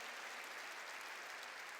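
A church congregation applauding during a sermon, a dense, even wash of clapping that sounds distant and faint throughout.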